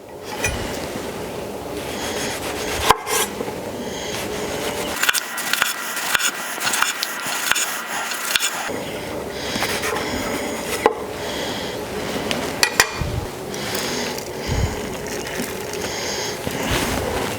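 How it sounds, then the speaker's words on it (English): A knife slices tomatoes on a board for a smash burger, making irregular sharp cuts and taps at close range against a faint background hiss. "all we're going to do is slice up some tomatoes"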